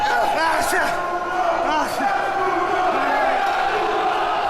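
Wrestling arena crowd cheering wildly at a brutal tag team match, a dense roar of shouting voices with whoops and bellows rising and falling, loud and continuous.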